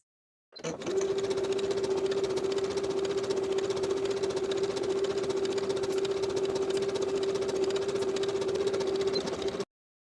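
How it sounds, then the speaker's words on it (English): Sewing machine stitching the bottom seam of a one-piece swimsuit with a narrow zigzag stitch, a steady, even mechanical whir running unbroken for about nine seconds, close and alone. "Sew this bottom seam with the same narrow zigzag stitch and a 3/8 inch seam allowance."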